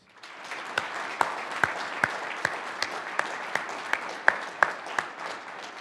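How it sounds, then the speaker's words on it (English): An audience applauds at a graduation ceremony for a training academy class, a steady wash of clapping with a few louder individual claps punctuating it at a moderate distance. "Please join me again in giving them a round of applause."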